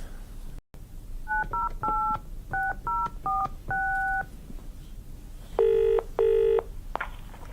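A telephone number is dialled on a touch-tone phone late at night: a quick series of distinct DTMF beeps, then a pause, then two longer ringing tones on the line, all clear and close with no talking.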